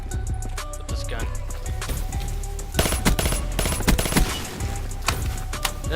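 Rapid automatic gunfire from an assault rifle in Black Ops 3, sharp bursts of closely spaced shots repeating loudly through the second half, with lighter game sounds and a talking voice earlier.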